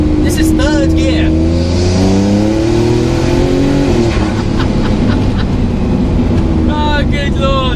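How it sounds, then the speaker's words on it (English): W Motors Fenyr SuperSport hypercar engine revving hard in third gear, a loud, close, rising roar that climbs in pitch over several seconds, then a fresh surge near the end. "I think people underestimate the importance of sound. But with this thing, this is third gear."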